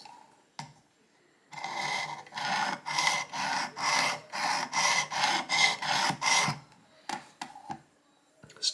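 A rusty single-bevel broadhead is rubbed on a Work Sharp Precision Elite sharpener in about a dozen rhythmic rasping strokes, close and fairly quiet, with a few isolated scrapes and taps before and after.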